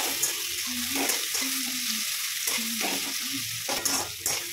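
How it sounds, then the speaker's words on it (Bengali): Chopped onion frying with cumin seeds and dry red chilli in mustard oil, a close bubbling sizzle interrupted by scraping stirs of a spatula in the pan, with no talk. "পেঁয়াজটাকেও ফোড়নের সাথে কিছুক্ষণ ভেজে নেব।"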